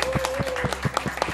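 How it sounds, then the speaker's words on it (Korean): An audience at a League of Legends esports offline final claps in a quick, uneven patter, with a thin steady whistle-like tone faintly underneath. "큰 박수 부탁드리겠습니다."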